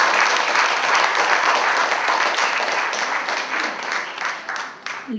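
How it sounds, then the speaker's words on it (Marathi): Sustained applause from an audience at an agro-tourism talk event welcoming an award-winning guest, steady clapping for about five seconds that thins slightly near the end. "जोरदार टाळ्या वाजवून स्वागत करूया"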